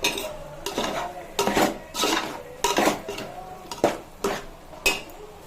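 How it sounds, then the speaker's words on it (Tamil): Potatoes are stirred in a pan with softened onion for a mutton curry, loud metallic scrapes and clanks of a spoon against the vessel coming in repeated bursts over a faint sizzle, close by and without talk. "கொஞ்சம் நல்லா வதங்கதும் உருளைக்கிழங்கு ஆட் பண்ணணும்"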